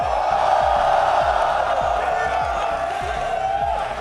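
A large esports arena crowd at the BLAST Premier World Final roars continuously, a dense wash of cheering and whooping with rhythmic chanting thumps running steadily beneath it.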